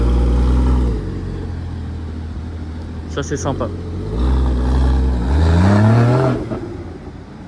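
A Porsche 718 Spider revs loudly on a town square in Deauville, its engine rising and falling in strong swells with a climbing pitch, while people talk nearby.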